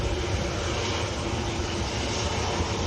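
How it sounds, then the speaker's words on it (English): Jet2 Airbus A330 heavy airliner on final approach into Manchester Airport, a steady broad distant jet roar holding evenly with no talking. "A330 next in. Yep, heavy on finals,"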